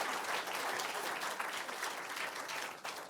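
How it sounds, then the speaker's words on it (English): A conference audience claps together at a business entrepreneurs event, a dense, steady wash of many hands sustained for about three seconds with no voices over it. "Who was going to give me a clap then? Clap."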